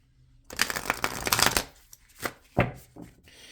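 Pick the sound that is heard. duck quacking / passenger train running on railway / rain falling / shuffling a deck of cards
shuffling a deck of cards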